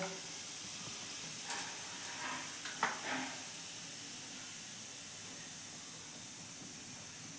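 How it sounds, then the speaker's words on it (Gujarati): Cumin seeds sizzle in about eight spoons of hot oil while tempering chole; a faint, steady hiss with a few small crackles and pops near the start, no voices. "આપણે સોલે વઘારવા માટે અહીંયા તેલ લઈ લીધું છે"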